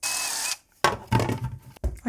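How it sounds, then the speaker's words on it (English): An electric drill bores two small holes, 3/16 to 1/4 inch, for a scooter build: a sustained high whine, then a pause, then short bursts of drilling and handling noise up close. "I just need to drill 2 little holes"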